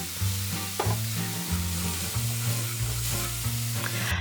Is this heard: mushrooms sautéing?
yes